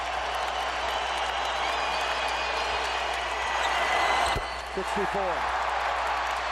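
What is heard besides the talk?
basketball crowd applauding Kobe Bryant's career high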